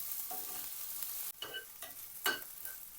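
Dried red chillies fry in a pan for green gram dosa chutney, a soft close sizzle broken by a few distinct stirring scrapes, quiet overall.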